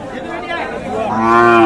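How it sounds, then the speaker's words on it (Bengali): A cow standing with her calf at a rural cattle market in Kaharol gives a close, loud, drawn-out moo that rises in strength toward the end, with faint crowd chatter behind. "এই যে গাভী এবং বাচ্চা"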